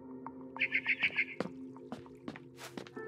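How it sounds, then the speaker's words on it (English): A barn swallow chirps in the video game What Remains of Edith Finch, giving a quick run of about five bright, close chirps, followed by scattered clicks and soft thumps over a low steady hum. "Then I heard chirping outside my window."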